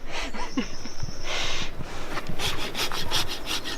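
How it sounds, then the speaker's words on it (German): A hand file rasps under an elephant's toenail during zoo foot care, giving rough, rhythmic scraping strokes up close, with short pauses and breathy background sounds between strokes. "Den feile ich nur von unten ein bisschen"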